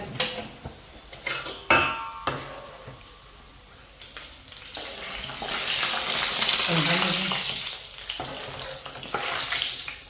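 Plantain fries with a steady sizzle in a pan, preceded by clinks of utensils against cookware, with the hiss swelling and continuing to the end.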